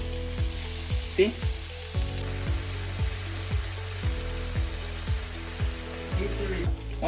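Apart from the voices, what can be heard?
burger patties sizzling in a pan after flipping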